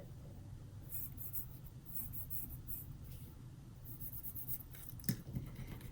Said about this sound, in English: I'm going to draw my parallelogram